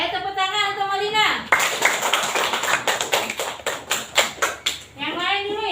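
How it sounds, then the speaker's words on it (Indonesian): A classroom of young children claps for a classmate, a burst of quick, uneven hand claps between stretches of voices, with children's speech before and after. "Ayo tepuk tangan untuk Maulina."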